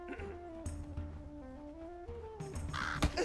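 Crows cawing in the video game For The King, a few harsh, nasal calls rising and falling over a soft game backdrop, moderately close and without talk.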